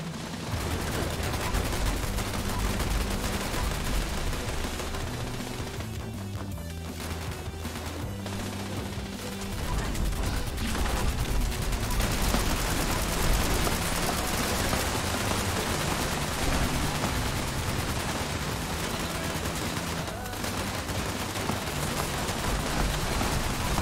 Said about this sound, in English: What are we shooting at? I'll shoot it.